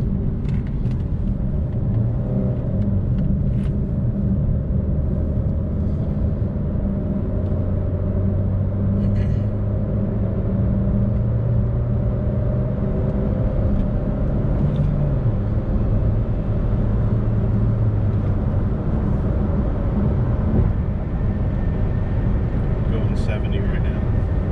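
A Chevy Sonic economy car accelerates up a highway on-ramp, its engine and road rumble steady and loud from inside the cabin, with a driver talking throughout.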